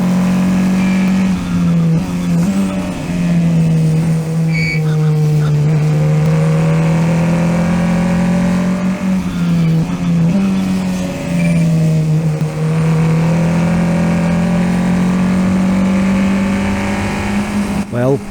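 An F4 race car engine drones loud and close during a race at Dijon-Prenois, its pitch rising and falling through shifts and corners, heard onboard with a voice talking over it.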